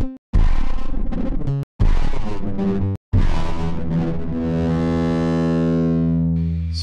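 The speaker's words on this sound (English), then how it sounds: "you can get some really gritty dark sounds from that" A gritty, dark, stretched electronic tone with distorted layers, cut by brief silences, then settling into a sustained low droning smear.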